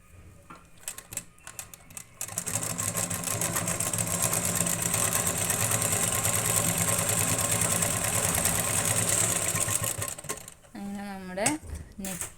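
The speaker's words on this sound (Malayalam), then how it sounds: "സ്റ്റിച്ച് നല്ല ഫിനിഷിങ് നമുക്കിത് സ്റ്റിച്ച് ചെയ്തെടുക്കാം" A sewing machine stitches a readymade blouse neck, its rapid mechanical clatter running continuously and close for about eight seconds, framed by brief handling noises, with a short voice-like sound at the end.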